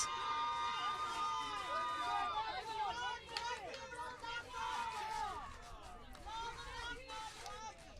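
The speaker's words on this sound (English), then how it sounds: "And you could just hear that crowd" Crowd roaring and shouting throughout a rugby cup consolation match between South Panthers and Capital, with dense hubbub, swelling cheers and overlapping voices sustained loudly for the whole stretch.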